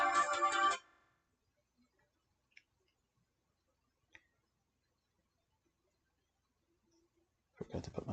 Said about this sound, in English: Forgot to put my phone on do not disturb.